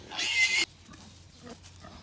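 A pig on a farm where piglets are being vaccinated and weaned gives one short, sharp squeal, followed by quiet pen noise with faint scuffling.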